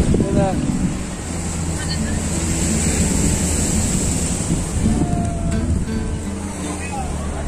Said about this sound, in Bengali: দেখাচ্ছি সমুদ্রের ঢেউ